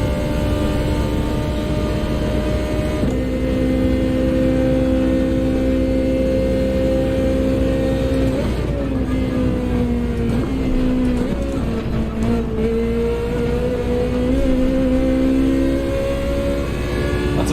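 Ferrari 458 race car in a racing video game, engine loud and continuous with steady harmonic drone that shifts pitch through gear changes and a chicane, revving up and down without pause.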